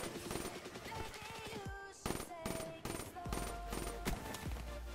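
Video game gunfire, rapid automatic bursts in quick succession with short gaps between them, loud and close, mixed with other game sounds and someone speaking.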